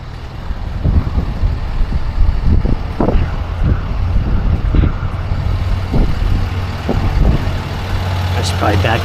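A tow truck's diesel engine rumbles steadily close by while the truck reverses toward a vehicle, with gusts of wind noise on the microphone and someone talking over it.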